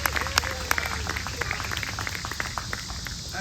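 An audience at a state fair whip show claps lightly and unevenly, with scattered individual claps rather than a full ovation and faint voices mixed in.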